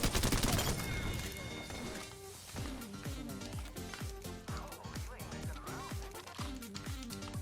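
Havoc rifle fire in the Apex Legends battle royale game comes as rapid bursts of automatic shots with echoing tails, sustained over several seconds at a steady pace, with occasional player talk alongside.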